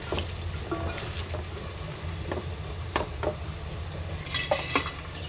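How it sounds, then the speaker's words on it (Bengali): Okra frying in a home kitchen pan while being stirred, with soft sizzling under scattered scrapes and clinks of a utensil against the pan, a few sharper knocks near the end. "আম্মু ঢেঁড়স ভাজি করতেছে, ভাজিটা নেড়েই আনন্দ পাচ্ছে অনেক"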